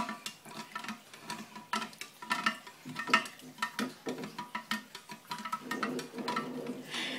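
A Sea-Monkeys mixture is stirred in a small container, giving a rapid, irregular run of soft clicks and taps that carries on quietly and close up.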